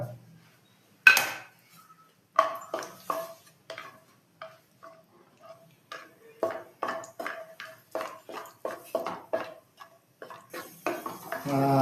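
Cashews roasting in ghee in a pan for milk kesari, with scattered close clinks and scrapes of a spoon against the pan, irregular stirring knocks and a faint sizzle that thickens toward the end.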